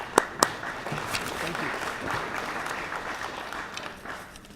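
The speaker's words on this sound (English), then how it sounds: "So please, a round of applause for," Audience applause fills a 2019 chamber of commerce awards banquet dinner, opening with a couple of sharp claps and then a steady, moderately loud wash of clapping from the crowd, with faint voices underneath.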